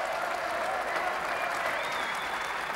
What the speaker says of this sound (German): Die Fans klatschen nochmal.